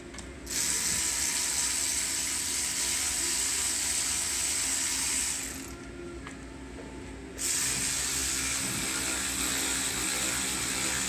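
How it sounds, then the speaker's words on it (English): A first-generation Milwaukee power ratchet runs close and loud while working on the rear brakes of a 2005 Toyota Camry, giving a continuous buzzing whir that cuts out briefly midway and then starts again. "We have the old first gen Milwaukee ratcheting."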